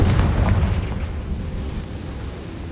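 A Confringo fire spell explodes in the video game Hogwarts Legacy: a loud, close, rumbling blast that bursts at once and rolls off in a deep, fading boom over under three seconds.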